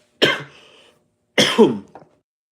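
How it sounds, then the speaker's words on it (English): Two harsh coughs about a second apart, close and loud, the second one followed by a brief throat-clearing rasp. "I might cough again."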